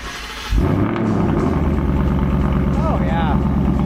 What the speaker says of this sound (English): Let's hear Chris's car start up here